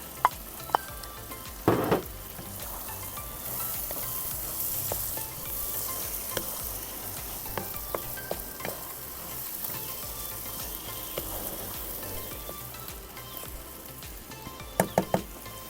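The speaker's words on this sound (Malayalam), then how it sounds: "ഇനി നമുക്ക് വറുത്ത് വെച്ച ബീഫ് അതിലേക്ക് ഇടാം" Fried beef going into a homemade beef pickle (achaar), a loud continuous sizzle with a few sharp knocks and stirring clinks near the start and end.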